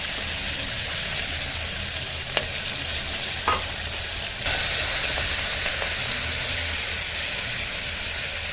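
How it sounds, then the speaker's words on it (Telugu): Onion, coriander and curry leaves frying in oil in a pan, a loud, dense, continuous sizzle and crackle that holds steady throughout, with a few faint clicks and a brief swell partway through. "ఉల్లిపాయ అండ్ కొత్తిమీర, కరివేపాకు, ఆయిల్ వేసేసా."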